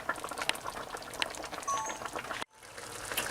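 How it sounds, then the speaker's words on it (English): A pot of okro soup with fresh fish simmers and bubbles softly at close range, a gentle continuous burbling with a brief cut near the end. "So just allow it to keep simmering until that oil starts to float."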